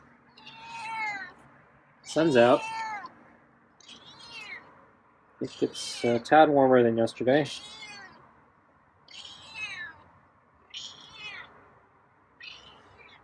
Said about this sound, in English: Yeah, I got some meows today.